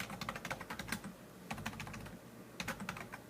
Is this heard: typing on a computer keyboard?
yes